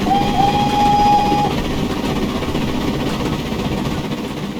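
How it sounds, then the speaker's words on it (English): An LNER J21 0-6-0 steam locomotive in Train Simulator Classic rumbles along steadily with a constant low chuffing drone, and a brief high whistle-like tone sounds near the start. "Very nicely running, very nicely smooth locomotives."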